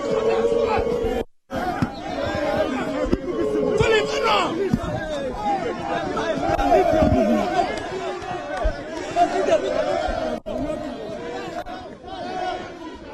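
A dense, uncontrollable crowd chatters and shouts at a polling station in Ghana, loud overlapping voices filling the space with brief lulls, while a reporter speaks over the din.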